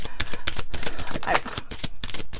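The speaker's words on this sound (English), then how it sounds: "I'll try to shuffle one more time to get something" A deck of oracle cards is shuffled in a quick run of close, papery riffles and slaps that keep a steady rhythm, with no talk over them.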